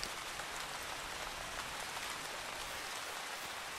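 Steady rain falls in the Backwoods Town video game, a dense, even hiss of raindrops that continues without break and without talk.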